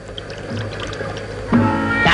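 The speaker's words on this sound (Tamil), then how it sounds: "ஒரு கிளாஸ் ஊத்துக்க." Liquor pours into a glass with a gurgling, rising trickle in the final second, preceded by quiet room tone.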